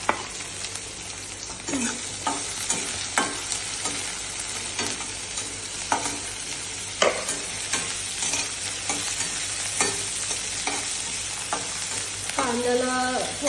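Medium chopped onion sautéing in hot oil for paneer bhurji, a steady close sizzle broken by frequent spatula stirring scrapes, with a brief clatter near the end.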